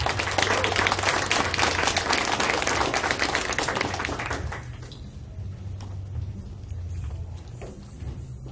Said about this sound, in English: give a round of applause to Hong Kong